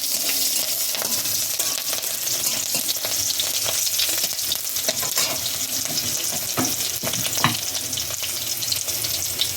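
Slit green chillies and nigella seeds sizzling hard in hot oil for a Bengali mustard hilsa dish, a loud, continuous crackling fry with occasional sharper pops and spatters, close up and without talk.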